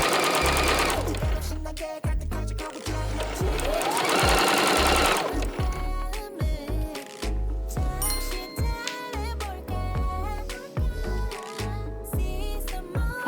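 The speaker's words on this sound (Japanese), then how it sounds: "しつけしたのでミシンで縫っていきます。" Sewing machine stitching a handmade vintage-style blouse, running in bursts of steady rapid stitching with short pauses between runs, close and loud with no talking.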